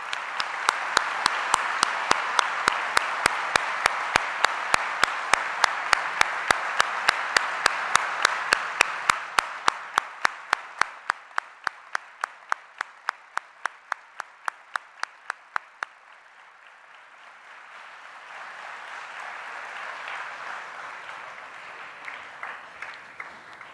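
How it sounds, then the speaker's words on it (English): Audience applause for children in a Bal-vikas program, a dense, loud burst of many hands that thins out to a few sharp, rhythmic claps before a softer second wave of clapping rises again. "A big hand of applause for the future of Bal-vikas."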